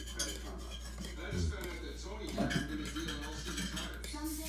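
A spoon scrapes and clinks against a pot while poached egg soup is stirred, a steady clatter of metal under low background chatter and a constant hum.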